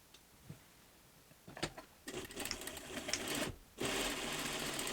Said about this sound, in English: Now layer your separate pieces together at 90 degrees and sew diagonally.